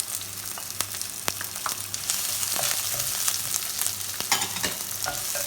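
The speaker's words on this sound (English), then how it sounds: "And we just want to saute this for a few seconds." Onion and garlic sauté in a hot pot with a steady, close sizzle, marked by sharp crackles and pops throughout and no voice over it.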